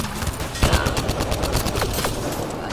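Sustained turret gunfire in the video game Mass Effect Andromeda, a dense stream of rapid shots with a sharp onset, continuing steadily and fairly loud throughout with no talk.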